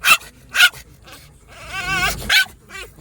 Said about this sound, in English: That's a sharp little bark she's got.